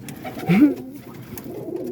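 Roller pigeons coo softly in a coop, one low murmuring call rising and falling close by against a quiet background.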